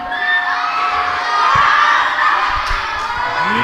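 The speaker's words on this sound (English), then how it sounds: "Simon says scream." A group of children scream together on cue during a Simon Says game, a loud, sustained chorus of high shrieks that fills the whole moment without pause.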